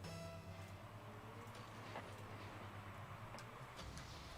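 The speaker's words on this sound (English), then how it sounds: "Is that one of Austin's car noises?" A faint, steady car engine sound effect in a gaming morning show studio, humming continuously for a few seconds with a low, even drone and no talk over it.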